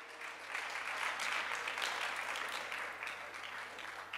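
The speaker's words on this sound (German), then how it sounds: "Genau, Applaus für das Video." Audience applause at a GreenPrimary event in Cologne following a video screening, a soft, fairly distant wash of many hands clapping steadily throughout, with no talk.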